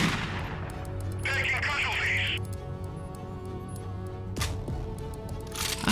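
Bursts of gunfire in the video game Dead Effect 2 ring out in rapid, repeated shots, with a loud blast near the end and a voice talking over the action.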